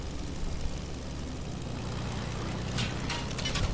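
Propeller airplane engine in Fortnite, a steady low droning hum that holds throughout, with some brighter noise creeping in near the end.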